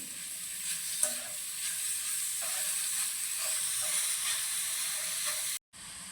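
Steady, close sizzle of carrots frying in hot oil, with occasional scraping stirs and a brief cut to quiet near the end.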